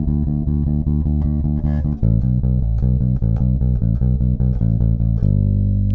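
Bass guitar riff from a song with the final note changed to an A, steady repeated plucked notes in a driving rhythm, loud and close, played alone without talking.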